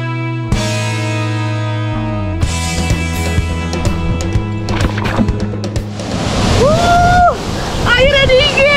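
Music plays at first, then gives way to a steady rush of water from the tall Akar Sewu waterfall, with a voice heard over the roar.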